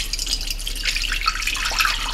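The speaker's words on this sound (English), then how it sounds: "I have an extra vessel and a strainer, and I'm now going to strain through" Chaga kombucha poured through a strainer into a vessel gives a continuous soft trickle and splash of liquid, close and fairly quiet with bright watery gurgles.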